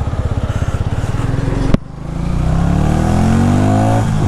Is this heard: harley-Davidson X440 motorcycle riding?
yes